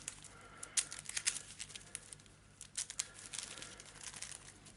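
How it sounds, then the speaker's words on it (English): Someone shuffles Arkham Horror card decks, producing crisp riffling and crinkly card flutters in short bursts, close and fairly clear with no talking. "let's give them a good old shuffle"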